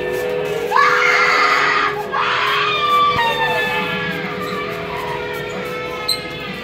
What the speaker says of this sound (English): I hate that room. It scares me when it screams.